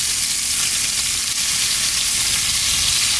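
A plain stick of salted butter sizzles and fries steadily in a pan, a continuous close crackling hiss with no pauses and no talk.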